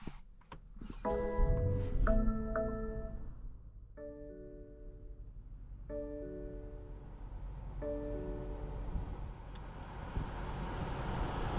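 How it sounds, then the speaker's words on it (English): A 2023 BMW X5 M50i SUV with a twin-turbo 4.4-litre V8 and 8-speed automatic sounds a sequence of soft electronic cabin chimes, then steady interior road and engine noise builds as it drives off. "today we're going for a drive in this 2023 BMW X5 M50i"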